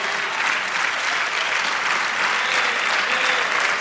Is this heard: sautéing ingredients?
no